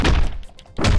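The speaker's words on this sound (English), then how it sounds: "I'm going to throw this gun, too, just in case you're not clear on that." In the Hotline Miami video game, a thrown gun lands with a dull, punchy thunk, then a quieter gap, and a second heavy thud follows at the end.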